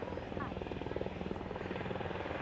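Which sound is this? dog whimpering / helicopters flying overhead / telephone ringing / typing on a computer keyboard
helicopters flying overhead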